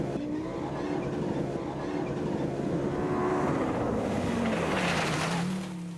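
An Audi Quattro A2 rally car runs on a practice track at a former airfield, its engine a continuous loud drone that swells and shifts pitch as it passes near, then fades slightly at the end.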